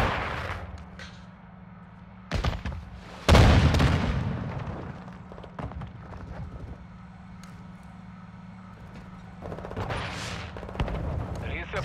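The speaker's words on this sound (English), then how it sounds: "Taking fire!" Gunfire in Call of Duty: Modern Warfare II on the Zarqwa Hydroelectric map: a few loud, sharp shots and booming bursts, one heavy blast near the start, with game voice callouts in between.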